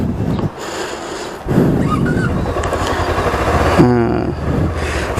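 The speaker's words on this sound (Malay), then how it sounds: "so jom kita test ride motor ni" Morbidelli T252X adventure motorcycle on a test ride, engine running steadily with a broadband rumble and a brief rev near the end, close and loud with some wind noise.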